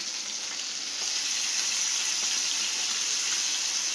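Cauliflower frying in a pan as a ginger and tomato paste goes in, a loud, steady, hissing sizzle close to the microphone that swells as the paste hits the hot oil and holds without pause.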